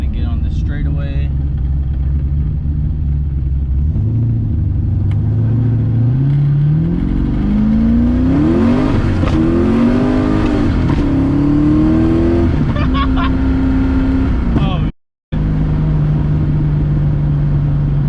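An LS-swapped Lexus IS300 accelerates hard down a straightaway, its V8 engine droning low and then rising through the revs with a shift partway through, heard loud from inside the car while someone talks over it.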